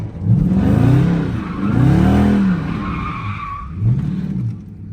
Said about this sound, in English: So first gear, I kind of start off in a little burnout and then I start to spin it.